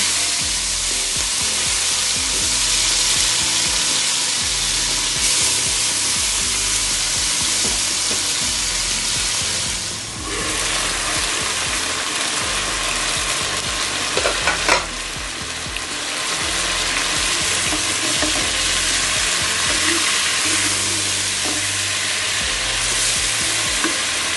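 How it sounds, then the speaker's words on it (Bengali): Pointed gourd (potol) slices fry in hot oil in a pan, a continuous close sizzle and crackle with occasional stirring scrapes, steady throughout. "আমি পটল ভেজে নিচ্ছি, ওই তেলেই ভেজে নিচ্ছি।"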